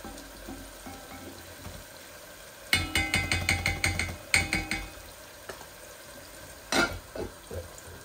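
Chicken masala cooking in oil in a pan, with a low background sizzle broken by bursts of rapid clattering stirring strokes near the middle and again toward the end, close and fairly loud, no talk.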